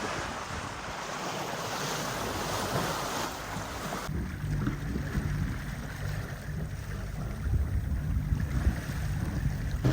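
A steady boat motor drone under rushing wind and water noise at sea between the Maldives and Sri Lanka, continuous and fairly loud, with a shift in tone partway through; no voices.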